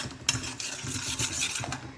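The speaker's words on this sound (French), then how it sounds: "Vous mélangez bien." A utensil stirs flan mixture in a pot on the stove, making soft, continuous scraping and rubbing sounds with a few light knocks, close and fairly quiet.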